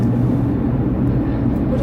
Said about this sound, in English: oh, that's a plane.